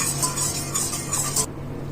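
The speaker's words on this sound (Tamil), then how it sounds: "இது கம்ப்ளீட்டாக டிசால்வ் ஆகிற வரைக்கும் நம்ம இந்த மாதிரி ஸ்டேர் பண்ணிக்கிட்டே இருக்கணும்" Agar agar is stirred in hot water in a pot until it dissolves, giving a continuous close scraping and swishing with light clinks that stop abruptly near the end.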